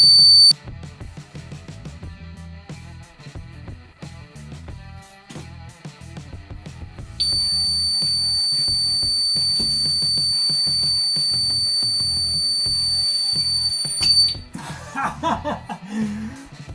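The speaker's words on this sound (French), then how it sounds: "Voilà ce que donne le son de l'alarme à intensité moyenne." A piercing electronic siren tone from an LSC Smart Connect siren alarm at medium intensity sounds steadily and loudly for several seconds, layered over rhythmic music, then cuts off abruptly.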